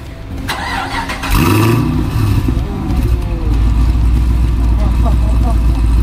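A Chevrolet SS (Holden Commodore) V8 engine fitted with long-tube headers and an X-pipe starts and settles into a deep, loud rumbling idle, with people talking over it.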